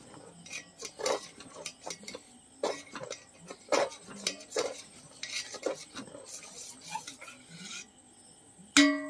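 Rice and lentil khichuri stirred in a pot, with repeated scraping and clinking strokes of a utensil against the metal in an uneven rhythm, close by, ending in a louder clatter.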